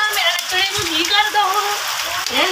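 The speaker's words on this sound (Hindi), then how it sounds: "अब हुई है थोड़ी सी अच्छी बारिश।" Summer rain falls steadily onto an outdoor surface near plants and a wet floor rug, a continuous patter running the whole time with a voice talking over it.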